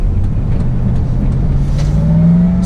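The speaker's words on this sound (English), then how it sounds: "let me accelerate" Ford SVT Lightning pickup truck engine pulling under acceleration, a low steady drone rising in pitch toward the end, heard from inside the cab with road noise.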